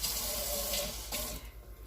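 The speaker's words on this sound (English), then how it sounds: "I'll pour that whole thing in there and rinse this out." Tap water runs into a container of leftover sofrito as it is rinsed out in a kitchen sink, a steady close splashing rush that thins out near the end.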